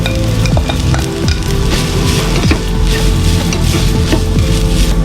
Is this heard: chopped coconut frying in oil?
yes